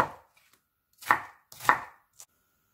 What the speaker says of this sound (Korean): 양파 반개입니다. 조금 큼직큼직하게 썰어주세요.